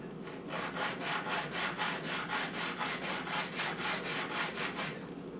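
An N scale model building's rough top is sanded smooth, a quiet, steady back-and-forth scratching in about a dozen even strokes with no talking.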